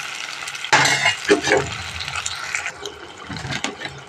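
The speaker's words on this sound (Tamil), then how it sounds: "தக்காளி சேர்த்து அதையும் நல்லா ஒரு கிளர் கிளறிக்குவோம் கொஞ்சம் நல்லா வதங்கட்டும்" Tomatoes are stirred into a frying pan for a capsicum egg gravy, giving a few close scrapes and clacks of a spatula over a soft background sizzle.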